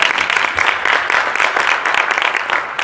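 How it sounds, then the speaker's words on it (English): A steady burst of audience applause at a book signing, dense overlapping claps filling the room at close range, with no voices standing out. "Big round of applause for yourself."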